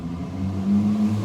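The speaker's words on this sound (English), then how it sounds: "There was a Dodge Charger that just drove by, and I'll be honest, it sounded amazing." A Dodge Charger drives past with a deep, steady engine rumble that swells a little as it goes by, heard from a short distance with no talk over it.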